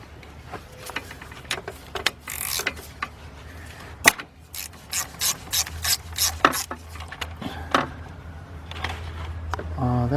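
A 13mm swivel socket on a 3/8 drive ratchet works a ground wire bolt on a BMW 745i, giving repeated close clicking ratchet bursts in short strokes with brief pauses and metallic taps.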